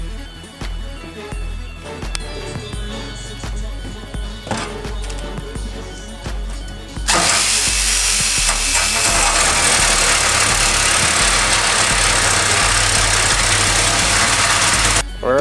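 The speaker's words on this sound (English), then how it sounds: "I used the jigsaw, that way it'd be a much cleaner cut" A jigsaw cuts through scrap metal about 1/16 inch thick while making iron bracers. Quieter mechanical rattling comes first, then a loud, steady, buzzing cutting roar starts about halfway through and holds close and constant to the end.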